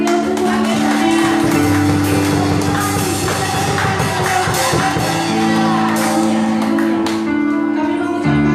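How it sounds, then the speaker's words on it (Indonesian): Congregation at Gereja Bethel Roh Kudus church claps and cheers loudly in praise, shouts and whoops rising over sustained music from the worship band for several seconds. "Berikan tepuk tangan yang meriah untuk Tuhan kita ya."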